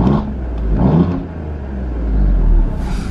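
Alfa Romeo Giulia Quadrifoglio, a 503 bhp car, revving in race mode with exhaust valves open: a close, loud engine note that rises in short blips, dips, then swells again into a deep rumbling rev.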